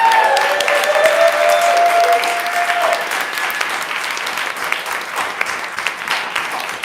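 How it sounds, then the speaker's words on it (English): An audience breaks into loud, sustained applause for author Leslie Stein at a live Brooklyn event, dense clapping that gradually thins, with a whoop or cheer near the start. "let's give a real big round of applause to Leslie Stein"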